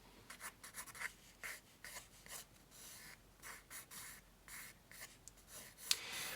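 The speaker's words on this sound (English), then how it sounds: "So I recommend using a nice soft pencil." A soft pencil sketching a flattened rib shape on paper, producing quiet intermittent scratching strokes in short bursts, close and faint, with no talking.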